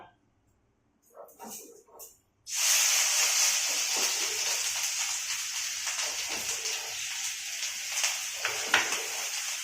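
Onion paste dropped into hot oil tempered with a piece of cinnamon bursts into a sudden loud sizzle after near silence, then keeps hissing and crackling steadily up close.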